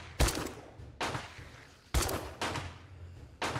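Gunfire in the video game 7 Days to Die, five sharp loud shots spaced roughly half a second to a second apart, each with a short decaying tail, nearly free of talk.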